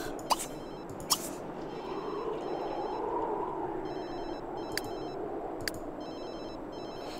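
A phone rings in The Sims 3 video game, a soft repeating electronic trill in short bursts over a constant hiss, punctuated by a few sharp clicks, with no one speaking.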